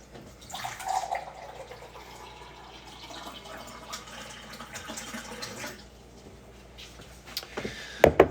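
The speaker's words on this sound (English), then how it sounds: "I'm just going to grab a glass of water" Water runs from a tap into a glass indoors in a soft, steady trickle that rises and falls, ending with a few louder clinks and splashes.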